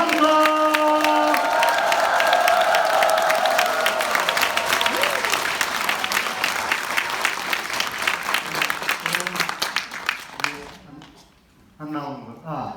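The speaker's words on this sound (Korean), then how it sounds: "큰 박수와 감사." A crowd applauds the introduction of Incheon's mayor at a district visit, loud dense clapping with some cheering that slowly thins into scattered claps before a voice speaks over the fading tail.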